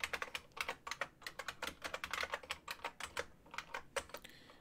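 Rapid, uneven keystrokes on a computer keyboard as someone types stack data-structure code, a steady run of close, crisp clicks with short pauses and no talking.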